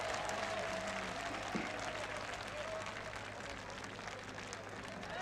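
A large crowd at an outdoor political rally in Sultanpuri, Delhi, applauds steadily for several seconds, a dense wash of clapping heard from a distance, with faint voices mixed in.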